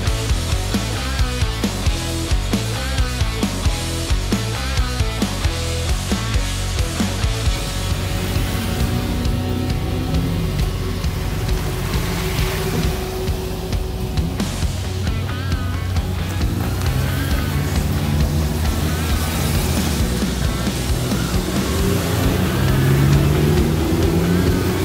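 A convoy of 35 motorcycles riding past on a road, a long continuous engine drone with rising and falling revs as the bikes stream by, steady and fairly loud with no talk.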